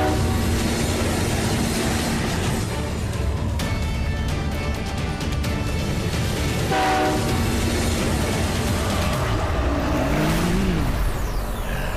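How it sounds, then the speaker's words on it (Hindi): A train roars past close by in a cartoon scene, a loud continuous rumble with clattering wheels, a horn blast near the middle and a falling whistle-like tone near the end. "रुद्रा तुम लोग तीन तरफ से ट्रेन को घेर कर रखना, तो ट्रेन डिसअपीयर नहीं होगी।"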